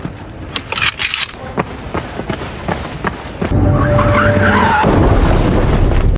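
A car skids with a rising rush of tire noise, then a loud, sustained crunching impact as it slams into a parked car, heard close and harsh.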